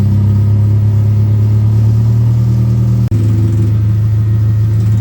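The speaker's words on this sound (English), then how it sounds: "they got lawn tractor engines in them or something, and little fiberglass bodies, and they buzz around here like a bunch of bumblebees" Junior late model race cars with lawn tractor engines and small fiberglass bodies drone steadily around a racetrack, a loud, continuous buzzing engine hum that holds close and constant, with a brief dropout partway through.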